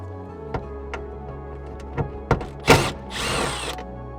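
Two 8mm bolts on a Toyota GR86 map light housing are undone, heard as close, sharp ratchet clicks in a sparse rhythm followed by a short whirring burst and a brief rasp.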